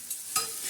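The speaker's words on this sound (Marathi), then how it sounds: "छान असे हे कारले आता हलवणार आहोत." Stirring of stuffed bitter gourd filled with crushed peanuts as it fries on a tawa, a short scrape and clatter over a steady, soft sizzle, close and fairly quiet with no talking.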